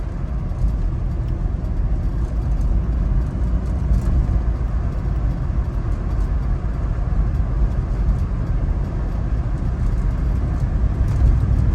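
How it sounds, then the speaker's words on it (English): Inside a restored 1990 Chevrolet Suburban V1500 Silverado 4x4 cruising at 45 mph, a steady, unchanging low rumble of road and engine noise fills the cabin for the whole stretch, with no voices. "We're just cruising along right now at 45 miles an hour."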